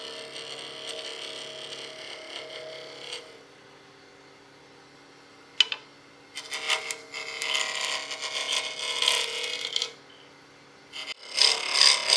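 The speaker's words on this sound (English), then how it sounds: "If I get my spindle roughing gouge and I rotate that and cut on this bottom wing kind of upside down a little bit, riding that bevel, it gives me a nice shear cut." A spindle roughing gouge shears along a spinning hybrid cast-and-wood blank for a pizza cutter handle on a lathe. The scraping cut comes in rough bursts separated by brief pauses.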